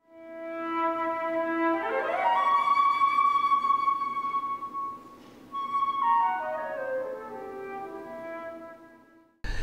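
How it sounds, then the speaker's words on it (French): Two flutes played together as one doubled instrument, sustaining steady harmonic tones that glide upward into a long held high note, then slide back down, clear and alone with no talking. "c'est le son de la flûte joué par deux musiciens."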